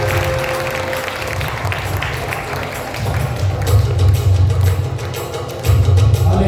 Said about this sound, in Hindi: आइए जोर से प्रभु यीशु के लिए ताली बजाएं